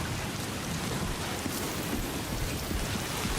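Steady heavy rain pattering down in the video game Death Stranding 2, a dense continuous hiss of timefall rainfall on surfaces, fairly loud and unbroken with no talk.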